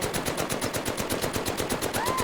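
Rapid repeated gunshots from the Rough Rider lever-action rifle slam-fired in the VR shooter Medal of Honor: Above and Beyond, a steady fast rhythm of loud close blasts with no talk.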